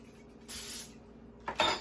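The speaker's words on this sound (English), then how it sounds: "So I'm going to spray with cooking spray the spoon" Cooking spray hisses from a can onto a spoon and a muffin tin while Rice Krispie treat nests are being made. There are two short, soft bursts about a second apart, close by, with no talking.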